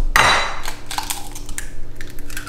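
Eggs tipped from their shells into a bowl for French toast, a quick wet plop and clatter at the start followed by a few light taps and knocks against the container.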